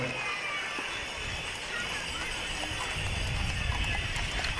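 Horse hooves clopping on hard stone paving slabs at a festival procession in Nuoro, steady clip-clop under a continuous crowd murmur and ambient noise, with a faint rhythmic beat throughout.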